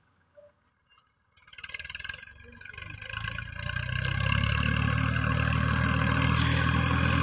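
A tractor engine starts up and settles into a loud, steady diesel rumble that keeps running close by, after a few brief knocks at the start.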